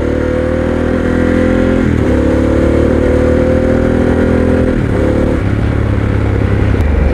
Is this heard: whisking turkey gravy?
no